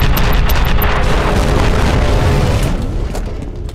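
A mecha robot firing rockets in the shooter game F.E.A.R., loud heavy booming explosions rumbling continuously with a crackling blast tail, close and intense.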